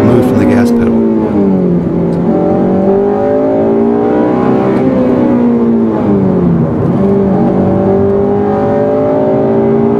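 A Honda car engine with a stuck drive-by-wire throttle holds a loud, high whining rev near 8,000 RPM, pitch dipping and climbing slightly, close and continuous.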